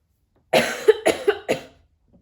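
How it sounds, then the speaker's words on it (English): A person coughs in a quick burst of about four harsh, dry coughs close to the microphone, then falls silent. "I've been holding in a cough literally the whole time."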